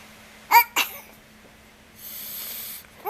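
A baby sneezes twice in quick succession, close by, followed by a soft breathy hiss in an otherwise quiet room.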